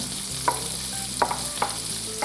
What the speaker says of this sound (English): Now I'm adding onion, chopped onion